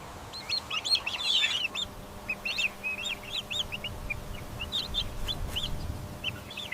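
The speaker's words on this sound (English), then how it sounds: "Turkey poult." Turkey poult calling on a farm, a series of high, thin chirping peeps in short clustered bursts over a quiet background, moderately near and alone without talk.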